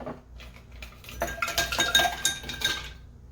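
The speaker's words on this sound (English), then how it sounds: "And we're gonna add our ice." Ice cubes clink and clatter into a bourbon cocktail glass, a series of bright close knocks and rattles building over a few seconds, then stopping.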